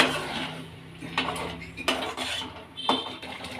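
Curd being stirred into a small-onion gravy in a pan, a handful of distinct metal spoon scrapes and clinks against the pan at a slow, uneven rhythm, close and fairly quiet.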